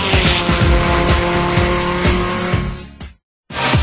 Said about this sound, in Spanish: MagnaFlow Performance Exhaust gives me that perfect sound.